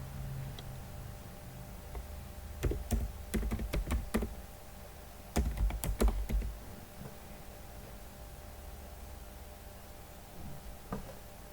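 Typing on a computer keyboard in an office setting, with two short bursts of quick keystrokes separated by pauses and a few isolated clicks, close and fairly quiet against a low background hum.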